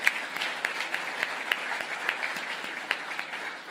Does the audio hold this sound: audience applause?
yes